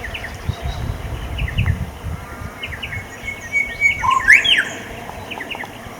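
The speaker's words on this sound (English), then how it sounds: "the lovely whistling of a little bird up there in the tree" A small bird whistles and chirps from nearby in short bright phrases, with a couple of louder clear notes over a soft outdoor background.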